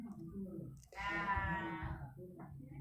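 A goat bleats once in a long wavering cry close by, heard over a low background murmur of voices during a live religious talk session.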